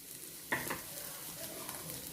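Beaten egg is stirred and broken up in a hot pan for egg porutu, with a soft scrape near the start followed by a faint, steady sizzle. The sound is quiet and close, and no one talks.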